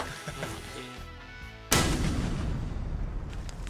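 A single rifle gunshot at outdoor target practice rings out sharply and loud partway through, followed by a lingering rumbling echo over quiet background.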